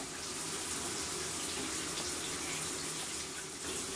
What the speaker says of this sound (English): turning on the shower